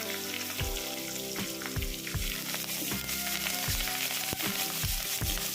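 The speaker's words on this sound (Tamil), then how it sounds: "நல்லா எண்ணெயிலே வதக்கி விடலாம்." Continuous loud sizzle of ingredients with asafoetida sautéing in oil, with periodic scraping stirs and crackles, close up and without speech.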